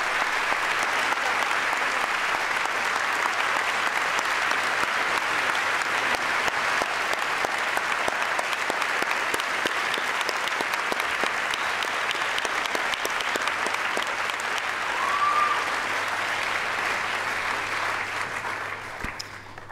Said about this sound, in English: Could we give my mum a massive round of applause?